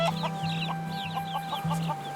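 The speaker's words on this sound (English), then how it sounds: "the island's domesticated chicken population to fly the coop" Domesticated chickens on an island cluck in short, repeated bursts close by, a rapid series of sharp clucks over a low, steady background hum.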